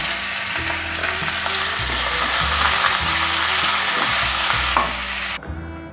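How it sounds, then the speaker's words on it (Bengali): Cauliflower fries in hot oil with salt and turmeric, a steady close sizzle with repeated stirring scrapes running under it until it cuts off near the end. "ফুলকপিগুলো আমার একটু লালচে করে ভালো করে ভেজে নিয়েছি"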